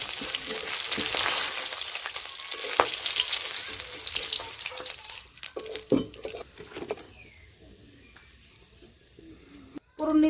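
Boal fish sizzling and crackling in hot oil in a pan, loud and close at first, with spatula scrapes and clinks as the pieces are lifted out, fading to a quieter sizzle.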